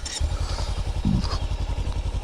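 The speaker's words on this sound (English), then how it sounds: "Your bike's started." A motorcycle engine catches after a brief starter whir and settles into a rapid, rhythmic idle thump close by, with a short mechanical clatter partway through.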